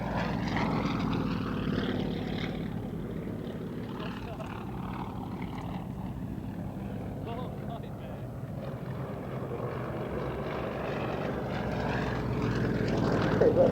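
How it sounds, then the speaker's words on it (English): A Russian Yak-50 single-seat aerobatic plane with a 9-cylinder 360 horsepower radial engine drones through an airshow display, a rough, steady propeller roar at a distance beneath a commentator's voice. "they're flying the Russian Yak-50 single-seat aerobatic aircraft powered by a 9-cylinder 360 horsepower"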